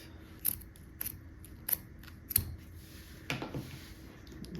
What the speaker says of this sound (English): you can cut your ribbon off